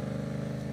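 Yamaha MT 700cc naked motorcycle engine running steadily at a low, throbbing idle-like pulse, close and continuous with no talking.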